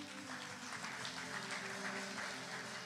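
A church congregation applauding and cheering in praise during a sermon, a steady dense wash of clapping and voices that holds for the whole stretch.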